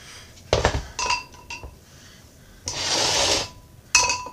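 Ceramic lids and a spoon from a 2-1/2 quart crock pot slow cooker clink and clatter while handled: several sharp ringing knocks, a longer scraping rub in the middle and a final bright clink, close and without speech.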